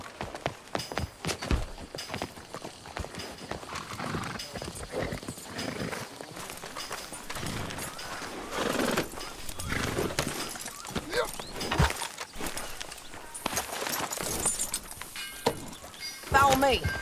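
Horse hooves clip-clopping in the Western video game Red Dead Redemption 2, uneven hoofbeats with occasional snorts and clatter, mixed in with people talking throughout and other game sounds.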